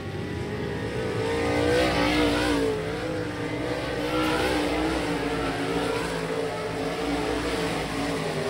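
A race car at Monett Motor Speedway powering out of a corner, its engine roaring and revving continuously as it accelerates, loud and fairly close with no talk.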